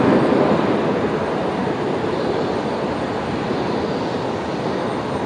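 Jetstar Airbus A320 or A321 jet at Brisbane Airport, a loud, steady broadband engine roar that holds constant without breaks, sounding close and continuous.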